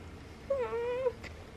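A single pet cat gives one clear, drawn-out meow lasting about half a second, close by and fairly soft, against a quiet indoor background.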